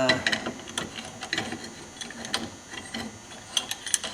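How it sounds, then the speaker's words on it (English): C-clamp being tightened to push a brake caliper piston back in on a Polaris Ranger 500, a series of close, irregular metallic clicks and ratcheting squeaks. "I'm gonna start out putting this C-clamp on here"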